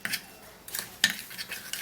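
A rice powder mixture being stirred in a bowl, with repeated sharp clinks and scrapes of a spoon against the bowl in an uneven rhythm, close up and with no speech.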